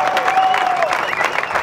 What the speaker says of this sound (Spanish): Un fuerte aplauso, si son tan amables.